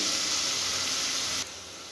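Broad beans (hullikai) frying in oil give a steady, close sizzling hiss that drops a little in level near the end.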